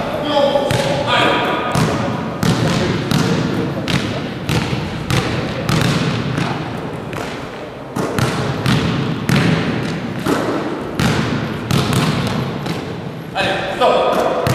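Basketballs thud repeatedly on an indoor court during dribbling and layup drills, a steady loud stream of bounces over constant voices and echoing gym noise.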